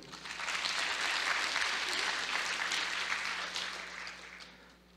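An audience claps steadily at the closing of the HITCON Community 2017 security conference, a dense applause that swells, holds for several seconds, then fades away in a large hall.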